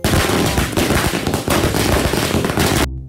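Diwali firecracker string going off up close, a loud, dense rattle of rapid pops with a few heavier cracks mixed in, then it cuts off sharply near the end.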